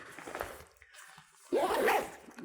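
Zipper on an F-Stop Tilopa 50L DuraDiamond camera backpack, a soft rasp followed by a brief pause, then a louder close zipping pull lasting about a second, with no talk.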